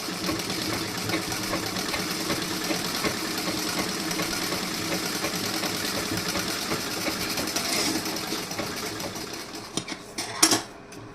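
A sewing machine runs steadily while stitching a blouse sleeve and back panel, a continuous close mechanical whir that holds for most of the stretch before a few sharper clicks and a brief stop near the end.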